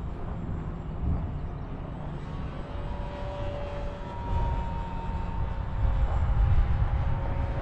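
Durafly Goblin RC racer plane in flight, its electric motor and propeller giving a steady whining drone at half throttle that swells slightly toward the end, with no talking.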